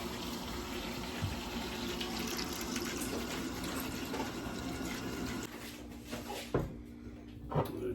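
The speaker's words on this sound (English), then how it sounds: "I'm just adding some water to the pot." Tap water runs steadily into a cooking pot while stuffed crabs are being made, a continuous close splashing stream that thins and stops near the end, followed by a couple of soft knocks.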